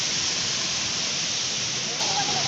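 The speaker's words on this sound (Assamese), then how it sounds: "হে গাইস আপোনালোকক দেখাম এতিয়া জুৰিটো ওচৰৰ পৰা" A hill stream flows in the Amsoi hills on a cold day, giving a steady, broad rushing hiss of water near at hand that runs unbroken and fairly loud throughout.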